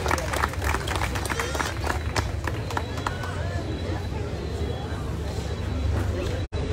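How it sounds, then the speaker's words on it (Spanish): A crowd claps strongly at a ceremony marking Comitán's tenth anniversary as a Pueblo Mágico, dense continuous applause with an unsettled crowd murmur running through it. "Fuerte aplauso, por favor."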